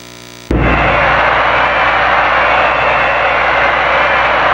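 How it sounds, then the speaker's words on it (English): Race car engines in the Rage Racer video game roar at the start on the Over Pass City course, a sudden loud, steady, dense engine drone that cuts in after a brief quieter moment and holds without a break. "Racers, start your engines"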